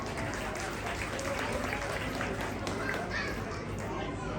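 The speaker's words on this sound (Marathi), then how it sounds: "वहिनींसाठी जोरात टाळ्या झाल्या पाहिजे." A crowd at a jewellery shop's anniversary prize-game event in Ambegaon Bu. claps steadily for a winner, a dense continuous patter mixed with crowd chatter and a voice talking over it.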